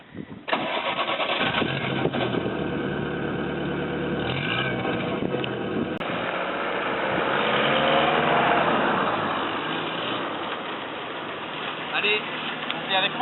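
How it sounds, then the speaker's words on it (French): A Peugeot 204 car engine cranks and starts, then settles into a steady running drone that swells briefly in the middle before easing back, loud and close throughout. "démarrer cette voiture était tout un cérémonial. Tout d'abord le contact, puis le starter, et enfin,"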